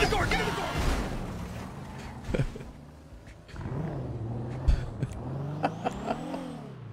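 In the GTA roleplay game, a car revs and pulls away with a rising engine whine and a few bumps, while urgent shouting voices nearly cover it.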